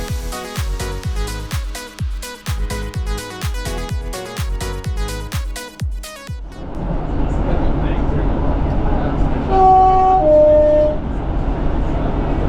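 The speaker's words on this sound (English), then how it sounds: "now we can listen to the sound of our train of the class 150 of Great Western Railway" A Great Western Railway Class 150 diesel train runs on the Avocet Line, at first giving a strong pulsing rhythmic beat, then settling into a steady loud rumble with a few brief tonal notes near the end.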